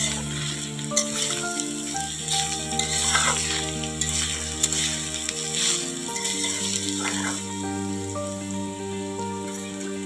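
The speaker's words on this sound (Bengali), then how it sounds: "এই সময় নারকেলটাও দিয়ে দেবো ভালো করে ভাজা হওয়ার জন্য" Steady sizzling of coconut frying in a pan, with intermittent scraping and stirring with a spatula over a constant low hum, close and fairly loud.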